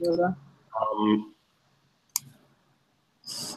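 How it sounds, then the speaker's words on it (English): A single sharp mouse-button click to end a screen share in an online workshop, brief and close, set between bursts of speech. "Clicking the button."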